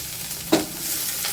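Ginger, curry leaves, green chili and onion sautéing in a pan for aval upma, a close steady sizzle broken by one sharp stirring scrape and a fainter second one, no voices.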